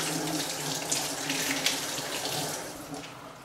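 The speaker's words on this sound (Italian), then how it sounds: "vanno lavati in abbondante acqua" Tap water runs steadily into a sink while fresh spinach is washed, a continuous close hiss and splash with small fluctuations and no voices.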